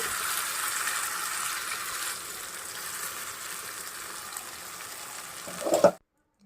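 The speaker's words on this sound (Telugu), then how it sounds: "ఇప్పుడు మనం ముందుగా పేస్ట్ చేసుకున్న మసాలా కూడా వేసుకొని ఒకసారి కలిపేసుకోండి" Masala paste is stirred into fried onions in a pan for chicken curry, giving a steady, close sizzling hiss with faint scraping that swells briefly before cutting off abruptly.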